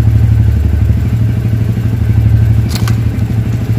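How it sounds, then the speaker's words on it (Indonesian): A fuel-injected motorcycle idles loudly and steadily close by, and a brief clatter and thump mark the bike being tipped over onto its side while the engine keeps running. "Kita coba simulasikan motor ini rubuh."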